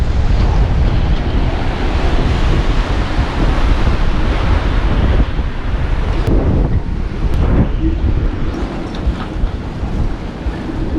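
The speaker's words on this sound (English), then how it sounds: "that's a big breeze." Strong wind blowing across a sailboat dock, a steady, loud roaring rush of gusts buffeting the microphone, with surf-like wash and a few faint knocks from the boat near the end.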